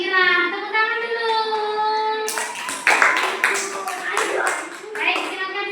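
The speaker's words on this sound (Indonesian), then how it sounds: "Tepuk tangan dulu." Children applaud in a classroom after a group presentation, a burst of clapping that starts partway through and continues steadily, with a voice speaking over it beforehand.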